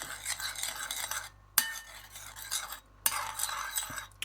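Sour cream stirred into Mexican bean soup: repeated scraping strokes of a spoon in a pot, in bursts separated by brief pauses and a couple of sharp clinks, close and fairly quiet.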